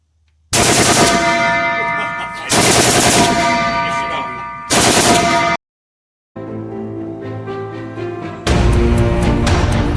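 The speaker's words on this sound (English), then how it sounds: "Alex, are you going to shoot? Pull it all the way back. And then release it." Gun fired at Tank Town USA: four long, loud bursts of rapid automatic fire, close and overwhelming, separated by short silences, with no talking.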